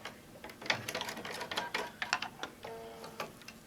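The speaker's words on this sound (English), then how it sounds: "do a little back stitch" A home sewing machine runs a short back stitch while making an apron and potholders from a printed fabric panel, giving quick ticking, clattering bursts at close range with no talk.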